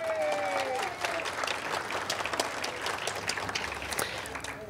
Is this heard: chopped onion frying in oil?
no